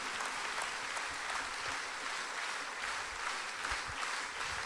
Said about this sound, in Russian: но аплодисменты что-то означают